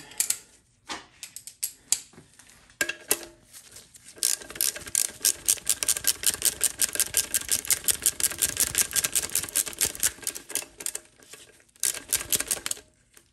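A ratchet wrench tightens bolts on a GM TH350 transmission front case with long runs of rapid, close clicking, broken by short pauses and a few resets between strokes.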